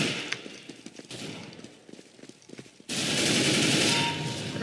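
Counter-Strike: GO gunfire, a quick volley of rapid close shots followed by a sustained loud roar of automatic fire.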